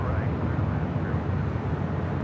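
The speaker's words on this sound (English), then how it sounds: "up next we have Qantas Flight 17 Super coming in from Sydney, Australia" A Qantas Airbus A380 lands at Los Angeles International Airport, arriving from Sydney on runway 24 right: a loud, steady, broadband jet roar that holds evenly through the clip with no talk over it.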